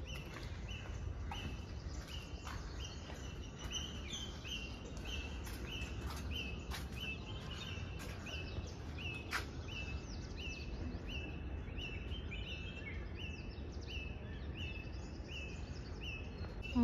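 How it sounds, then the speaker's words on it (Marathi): Outdoor birds sing at sunrise in a regular repeating chirp pattern, faint and distant, over a steady low background hum with occasional small clicks. "पण खूप सुंदर पक्ष्यांचे आवाज सुरू आहेत इथे."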